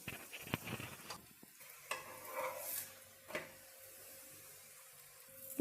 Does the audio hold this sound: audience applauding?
no